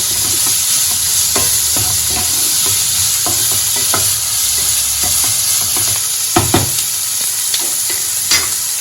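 Curry leaves frying in hot oil in a pan for egg bhurji, with a steady loud sizzle and crackle throughout and repeated clinks and scrapes of a spoon stirring. No voices.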